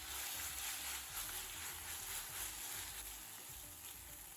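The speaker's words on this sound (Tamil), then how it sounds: "ஒரு தக்காளி, சாதத்துக்கு தேவையான உப்பு சேர்த்து நல்லா ஹை ஃப்ளேமே வதக்கலாம்." Tomato and carrot sauté with salt in oil on a high flame, giving a continuous soft sizzling hiss with low stirring rumble throughout.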